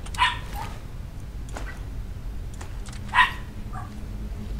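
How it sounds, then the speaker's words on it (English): A dog barks a few times, short sharp yaps heard at a distance through a steady low background hum. "The dog is barking again."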